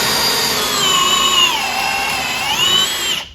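A cordless Milwaukee or Ridgid drill in drill mode at speed 2 drives an auger bit through wood with a loud, close, strained whine that rises and falls in pitch as the load shifts, then winds down.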